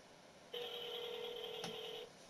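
A telephone dialing a call, heard as a single sustained two-tone beep of about one and a half seconds over quiet background, clear and close with no talk.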